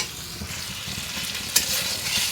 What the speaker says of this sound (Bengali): দিয়ে দিলাম রসুন বাটা, আর একটু আদা দিয়ে দিলাম, দিয়ে তারপরে আবার একটু নাড়াচাড়া করতেছি